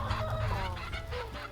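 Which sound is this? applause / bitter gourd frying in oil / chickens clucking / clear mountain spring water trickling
chickens clucking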